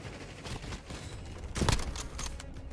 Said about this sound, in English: Why do I always have 2 people shooting at me?